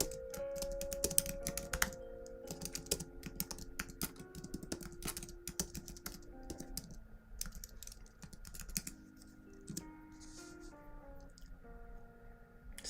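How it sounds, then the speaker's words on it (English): Steady rapid typing on a computer keyboard, a dense run of close, crisp key clicks continuing for the whole stretch with a faint tonal background and no talking. "I am typing it correctly"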